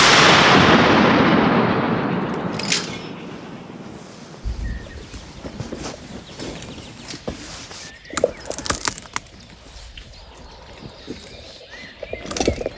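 A single heavy Melara howitzer blast opens with a loud boom that rolls and fades over several seconds, followed by scattered clicks and metallic handling sounds.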